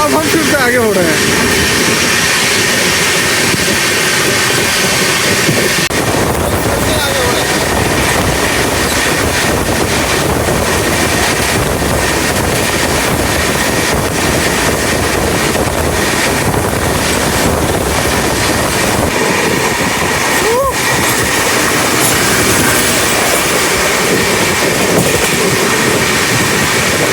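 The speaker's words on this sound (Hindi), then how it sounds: "Malwa express super fast express हमसे आगे निकल रही है।" The 19313 Patna Express from Indore to Patna runs alongside the Malwa Express in a loud, unbroken rumble of wheels and carriage noise, heavy wind buffeting the microphone, with a brief sharper rail screech near the end.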